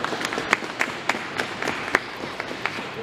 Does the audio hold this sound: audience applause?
yes